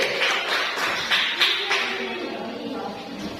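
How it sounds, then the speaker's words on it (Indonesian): A small group clapping for a few seconds in a classroom, a handful of sharp claps standing out near the start before the clapping thins and fades. "Tepuk tangan untuk kita ya"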